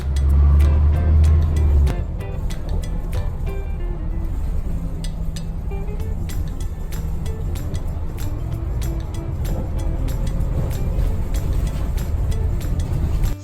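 A line of cars queues at a drive-thru during a city lockdown, giving a steady engine rumble close by with a loud low burst at the start and faint clinks and ticks scattered through.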